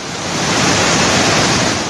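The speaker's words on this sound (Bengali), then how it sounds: "প্রবল বেগে পানি নামছে সাঙ্গু নদীতে" Monsoon floodwater roars down the Nafakhum and Remakri falls in Bandarban into the Sangu river, a loud, dense, unbroken rush with no voices.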